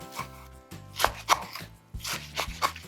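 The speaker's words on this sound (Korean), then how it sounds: "먹기 좋은 크기로 이렇게 썰어주시면 돼요" A knife cutting through blanched dried cabbage leaves (ugeoji) on a board in a home kitchen, giving a few uneven, close chopping strokes, some soft and some sharper, with no talking.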